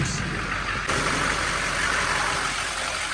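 A 2006 Chevy Silverado pickup's LBZ diesel engine idles steadily nearby, a constant low rumble with a slight shift in tone partway through.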